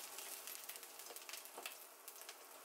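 Chopped garlic lightly fries in hot oil in a pan for chilli chicken, sizzling and crackling softly with a steady faint frying hiss and small pops, no voices.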